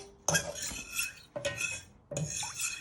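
A spoon scrapes and clinks against a pan as custard is stirred on the hob, coming in three short bursts of scraping strokes separated by brief pauses, fairly quiet and close, with no voices.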